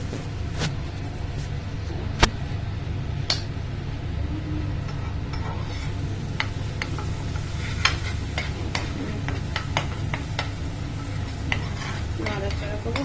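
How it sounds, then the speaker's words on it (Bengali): About a spoonful of garlic paste fries in a pan for a Schezwan chicken with bell peppers, a steady sizzle under repeated sharp metal scrapes and clicks as it is stirred, close and continuous. "এই 1 চামচের মতন আমি গার্লিক দিলাম।"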